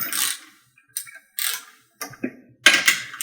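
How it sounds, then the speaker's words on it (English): Ratcheting wrench tightening bolts on a PowerBlock dip attachment, several loud, close bursts of rapid clicking separated by brief pauses, with no talk. "go ahead and tighten these down to torque. Again, I like this ratcheting wrench"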